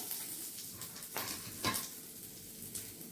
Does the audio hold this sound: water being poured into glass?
no